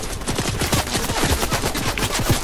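Dense, continuous automatic gunfire in a multiplayer shooter game, rapid bursts crackling steadily at close range with no pauses, as if fire arrives from two directions at once.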